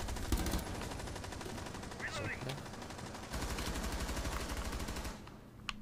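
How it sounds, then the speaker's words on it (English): Gunfire in the tactical shooter game Rainbow Six Siege, a steady rapid rattle running under game sound for several seconds before it cuts off. "I kind of just shot Rook."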